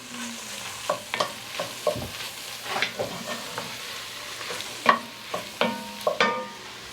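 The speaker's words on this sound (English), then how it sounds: "Get that stirred up." Close, moderately loud scraping and stirring of a utensil in a pot as garlic is mixed into sizzling vegetables for gumbo, with irregular scrapes and taps over a soft, steady frying hiss.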